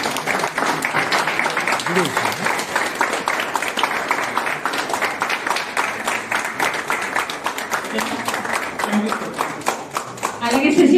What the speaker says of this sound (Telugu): బిగ్ క్లాప్స్ అండి.